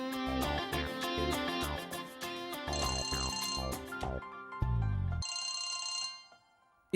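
A telephone ringtone plays as a bright melodic electronic tune of repeated notes, loud and alone, ending in a longer held tone before cutting off.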